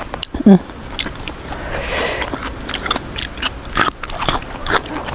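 A person chews a crunchy, spicy Thai squid salad made with cuttlefish, biting close to the microphone. The bites are repeated, crisp and moist, with brief soft sounds in between.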